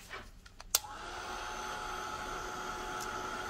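A hair dryer switches on after a few small clicks and knocks, then blows a steady, loud whir as it dries a painted craft piece, heard alone without talk.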